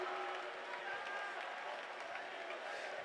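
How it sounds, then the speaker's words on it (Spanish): A congregation claps hands together during a church service: steady, dense clapping that runs throughout, mixed with voices and a sharp burst at the very end. "Pueblos todos, batid las manos"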